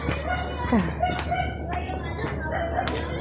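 A rooster calls near a chapel during a Sunday homily, its drawn-out, slightly wavering call rising over a steady room hum with soft background murmur.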